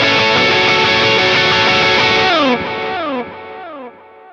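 Electric guitar chords played high on the neck through a Line 6 Helix patch with delay, a loud strummed wash that cuts off into descending delay repeats trailing away.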